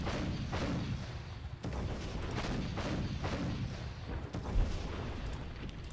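Dull, booming artillery fire in a World War I strategy game set in East Prussia repeats in rolling thuds about once a second, fairly soft and muffled, with no talk over it.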